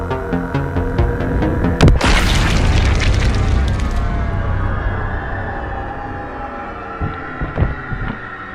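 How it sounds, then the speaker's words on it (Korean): A gunshot in a short film's action scene bursts out with a heavy boom near two seconds, over a dense musical score that swells and then slowly fades, with a few sharper hits near the end. "갑작스럽게 들린 총성에 현장은 순식간에 아수라장이 되었으며"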